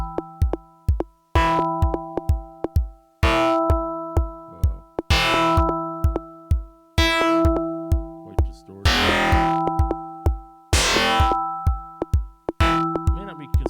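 Wavefolded sine tones from a Nord Micro Modular synth play as a repeating rhythmic pattern of sharp plucked hits, with bright buzzy bursts in between and steady sustained drone harmonics underneath, loud and close.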